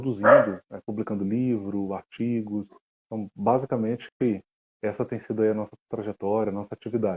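Small dogs barking indoors in the background while someone talks steadily over them, the yaps intermittent and partly masked by her voice.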